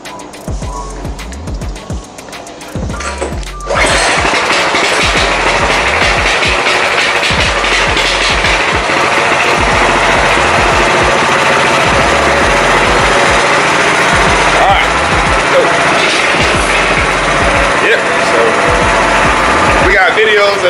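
A vehicle engine cranks and catches after a few seconds of quieter background with voices, then runs loud and steady, with a rough, chattering idle that continues to the end.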